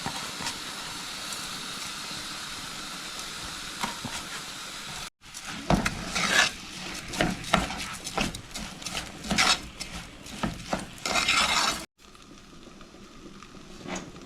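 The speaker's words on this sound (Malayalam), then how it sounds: "കഴുകി വെച്ച റൈസ് ഇതിലേക്ക് ആഡ് ചെയ്തു." Washed rice tipped into a hot pot for jollof rice and stirred, giving a steady hiss that turns into loud uneven scraping and sizzling bursts, then drops back to a softer simmer.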